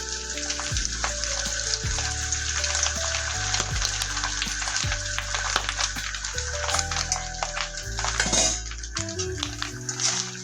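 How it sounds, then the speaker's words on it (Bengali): Egg yolks broken into onion tempering fry in a pan with a loud, steady sizzle and crackle, punctuated by spatula scrapes and clinks, under a constant low tonal hum and background music. "এটাকে কিন্তু এখন আমি ভাজা করে নেব মিনিমাম 5 মিনিটের মতো, যতক্ষণ না কালারটা লাল হয়ে যাচ্ছে।"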